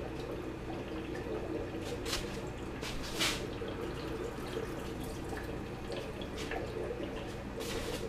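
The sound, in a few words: water running in a sink while rinsing brine shrimp eggs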